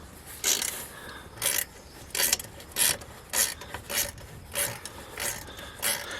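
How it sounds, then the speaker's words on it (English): A ratcheting wrench is turned on a biting-fly catcher trap under repair outdoors, giving about ten short, evenly spaced bursts of clicking rasp, close up over faint background hiss, with no talk. "Helps having a ratcheting wrench."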